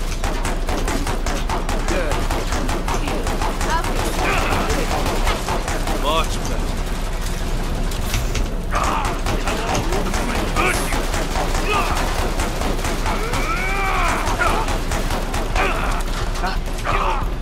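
Shotgun fire in the video game Killing Floor 2 forms dense, continuous game combat noise with rapid shots and booms, loud throughout, while voices talk over it.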